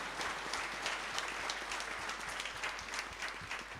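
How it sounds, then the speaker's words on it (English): A congregation at an Easter Vigil Mass claps steadily for a few seconds, a dense patter of many hands at moderate volume with no voices on top. "we can also give them a small round of applause"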